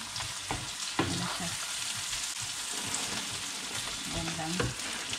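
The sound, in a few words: sautéing food in a pan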